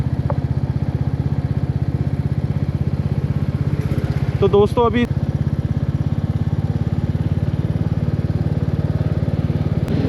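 A Royal Enfield Meteor 350 motorcycle engine runs close and steady as it heats up, with a continuous thumping rumble throughout and someone talking briefly over it near the middle.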